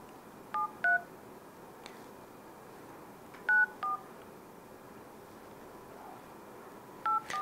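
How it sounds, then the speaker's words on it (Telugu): Phone being dialed, short clear tones in small bursts of two, with pauses of a few seconds between them, close by and heard alone over a quiet room background. "ఇంకొకసారి నేను డేవిడ్కి కాల్ చేస్తాను."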